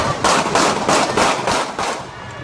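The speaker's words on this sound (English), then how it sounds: "terrifying scene as shots ring out in a crowded downtown area." Gunfire outside a nightclub on a crowded downtown street in Stamford, Connecticut: six loud, evenly spaced shots in quick succession, harsh and distorted, over a constant noisy background.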